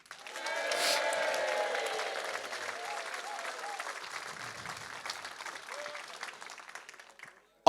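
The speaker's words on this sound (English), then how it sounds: "I'd like a nice, huge round of applause, a bit of cheering, just go nuts, basically." Audience at a snooker tournament bursts into loud applause and cheering, with whistles and shouts early on, then the clapping gradually thins and fades before a sudden sharp sound at the very end.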